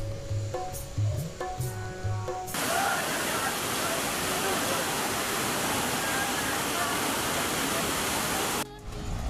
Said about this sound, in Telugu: సో ఫ్రెండ్స్, ఇది సబితం వాటర్ ఫాల్స్ వీడియో